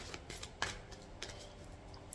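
Tarot cards shuffled by hand, a few soft papery riffles and taps, quiet and close, with no talking.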